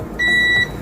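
A milliohm meter gives a single steady electronic beep, loud and close, as its probes touch a shorted capacitor beside the power IC on a mobile phone board. The tone lasts about half a second, with no talking.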